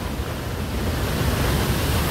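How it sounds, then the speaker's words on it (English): A waterfall in the Smoky Mountains of Tennessee in winter gives a steady, broad rushing roar, close and continuous, with no voices over it. "we made it to the best waterfall in the Smoky Mountains."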